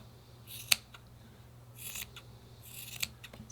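Scissors trimming excess fabric from a snowman doll, a few crisp close snips with brief rustling between them in a quiet room.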